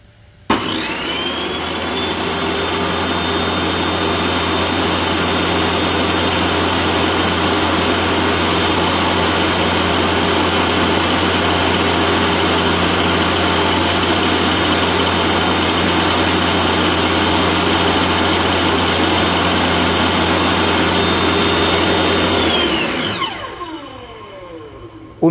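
A Ronix 5601 table saw motor runs at a loud, steady whine with a strong tonal hum for over twenty seconds, then spins down and fades near the end.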